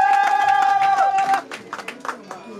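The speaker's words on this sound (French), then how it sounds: "Applaudissez pour monsieur Maoni." Wedding guests at an official civil marriage ceremony applaud with a burst of claps that gives way to scattered clapping, while a steady tone and a voice run over it.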